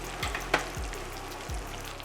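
Sage leaves fry in butter in a pan with a steady, close sizzle, broken by a few soft low thumps and a brief sharp clink.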